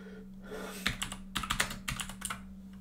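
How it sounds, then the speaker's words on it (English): Quick bursts of keystrokes on a computer keyboard, irregular clusters of clicks typed close up over a steady low hum, with no talking. "And make sure that I'm typing in the chat."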